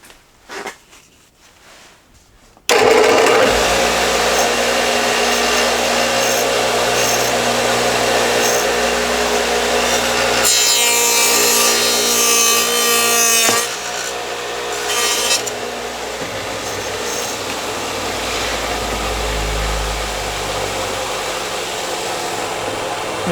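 A dado stack on a 12-inch saw cuts through oak plywood, its loud, steady whining roar starting abruptly after a quiet moment and holding for about twenty seconds, with the pitch and intensity shifting as the wood feeds through.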